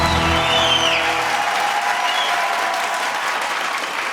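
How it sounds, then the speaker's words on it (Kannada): A television studio audience on a Kannada talk show bursts into loud, sustained applause, dense clapping that stays steady before tapering slightly at the end. "ಚಪ್ಪಾಳೆ ಹೊಡಿತಾ ಇದ್ದಾರೆ"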